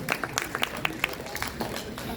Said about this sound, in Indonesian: Dikasih tepuk tangan dong Alan